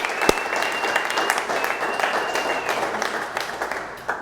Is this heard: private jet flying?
no